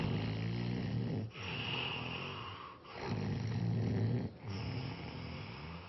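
A person snores in a slow, regular rhythm, each long, rasping, throaty breath separated by brief pauses, three or four breaths in all, close and fairly quiet.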